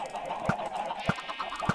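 Chickens cluck in the Minecraft farm game in short, evenly spaced clucks about every half second over a steady bed of background game ambience.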